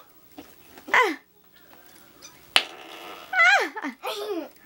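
Slime putty squeezed into squelchy fart noises, a few loud wet bursts spaced apart, with children's high voices and squeals around them.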